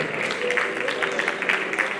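Applause at a mountaineering federation awards gala as a recipient is called to the podium, a dense, steady patter of many hands clapping in a hall.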